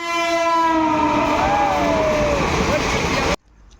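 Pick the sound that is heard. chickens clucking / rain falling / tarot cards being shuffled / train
train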